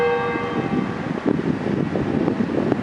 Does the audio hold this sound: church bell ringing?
yes